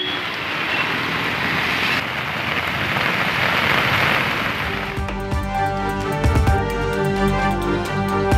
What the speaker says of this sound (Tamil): பெய்த கனமழையால் தெருக்களில் இடுப்பளவு தேங்கிய மழைநீர்